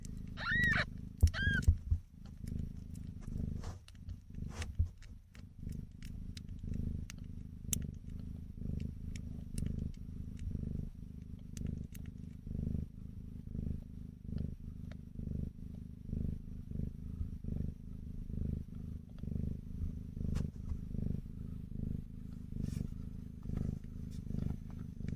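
Kittens purr close up in a soft, continuous rhythmic rumble that pulses steadily throughout. A few faint squeaks and rustles come near the start.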